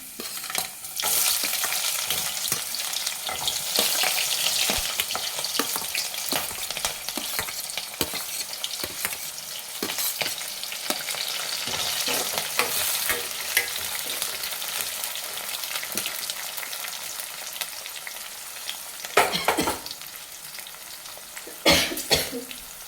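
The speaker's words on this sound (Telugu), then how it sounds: "ఉల్లిపాయలు అయితే బ్రౌన్ కలర్లో వేగిపోయి ఇప్పుడు ఆనియన్స్, పచ్చిమిర్చి అయితే వేసుకున్నాం" Onions and green chillies fry in a pan for a tomato and brinjal curry, with a continuous sizzle and stirring scrapes throughout and a few louder clatters near the end.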